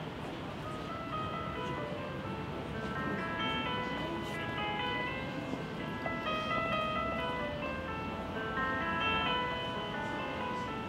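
A recorded excerpt of classical music by Beethoven plays faintly and continuously, with bright bell-like melodic tones over a soft, dense orchestral wash and no voices.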